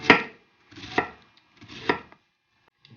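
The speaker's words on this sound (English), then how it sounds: "just slice it pretty much as thin as you can" A knife slicing vegetables thinly for coleslaw, three distinct crisp cuts about a second apart, each a brief crunchy stroke ending on the board, with quiet between them.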